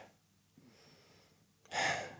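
A voice imitates sleep breathing, a faint shallow in-breath followed by a louder, heavier out-breath, close and quiet with no words.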